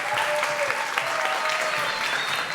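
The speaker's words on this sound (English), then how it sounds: "Big round of applause." A startup competition audience at an arena stage gives a round of applause after a pitch, steady dense clapping throughout with no gaps.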